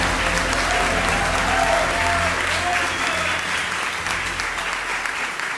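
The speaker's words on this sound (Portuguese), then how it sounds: "eu peço uma salva de palmas para eles." An audience at a municipal council medal ceremony applauds the honorees, loud sustained clapping with a low hum beneath that tapers slightly toward the end.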